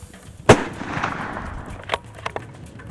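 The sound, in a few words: rifle gunshot during caribou hunt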